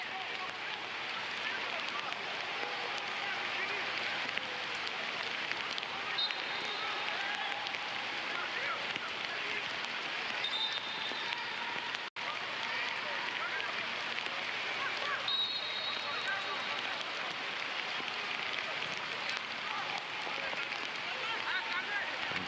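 Heavy rain pours down at a football match as a dense, constant hiss that holds steady throughout, with a commentator's voice running over it.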